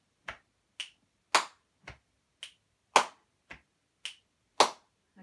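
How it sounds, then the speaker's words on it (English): Body percussion of chest clicks and hand claps played in a steady rhythm, nine or ten crisp separate hits spaced about half a second apart, close and alone with silence between them. "Maybe you could go chest click clap, chest click clap, chest click clap."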